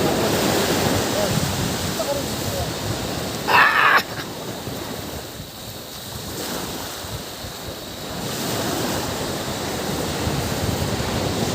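Ocean surf rolling onto the shore at a fishing spot, a continuous wash of waves with heavy wind buffeting the microphone and a brief louder gust partway through.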